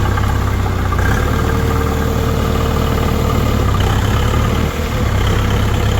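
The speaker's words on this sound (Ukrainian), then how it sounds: "Мотор. Мурликає. Ну, мотор кемовський тут." Kentavr minitractor with a KM-brand engine running smoothly as it pulls away, a steady close low rumbling drone with a slight dip near the end, no talk.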